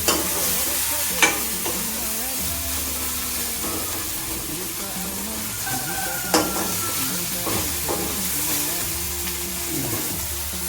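Tomatoes go into cooked masala in a pan for a mushroom curry, producing a steady close sizzle with occasional spoon knocks and scraping stirs throughout, without talking.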